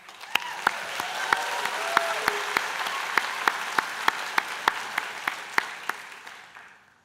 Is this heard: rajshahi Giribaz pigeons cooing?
no